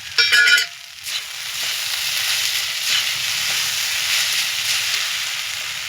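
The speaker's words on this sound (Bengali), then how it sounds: "তো দেখো, এইভাবে নাড়তে থাকবো" Fried spice masala being stirred in a pan for sabudana pulao with vegetables, giving a continuous soft hiss and sizzle after a brief metallic clatter at the start, close and even throughout, with no voices.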